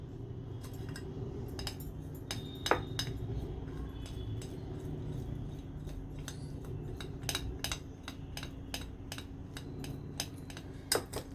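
A spoon mixing ginger-garlic paste and spices into paneer, giving a run of light, sharp clinks and taps against a dish over a low steady background hum.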